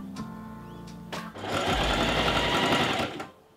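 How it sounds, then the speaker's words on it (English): Domestic sewing machine stitching darts into dress bodice pieces: a couple of short clicks, then a close, loud continuous buzzing run of stitches lasting about two seconds before stopping. "I sewed them into the bodice pieces"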